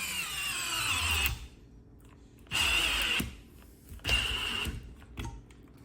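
DeWalt Xtreme 12V DCF601 cordless screwdriver driving screws, three whining bursts of the motor, the first longer and falling in pitch under load, separated by short pauses, close and alone.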